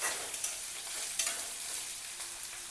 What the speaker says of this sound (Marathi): कांद्याला परतून घ्यायचं, कांदा छान भाजायचा